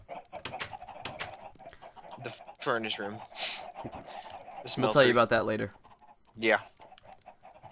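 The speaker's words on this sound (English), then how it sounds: "Here's chickens. Lots of chickens." Chickens cluck in the Minecraft video game, a few short, near clucks in bursts, with someone talking over them.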